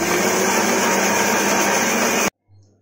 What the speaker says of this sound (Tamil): இப்போ இதை கொஞ்ச நேரம் ஆற விட்டுட்டு ஒரு பிளெண்டரில் போட்டு அரைச்சி எடுத்துக்கலாம்